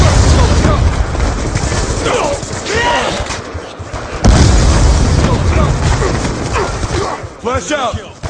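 Grenade explosions in the Black Ops 2 shooter game: heavy booming blasts near the start and again around the midpoint, amid constant battle noise with in-game voices talking over the action.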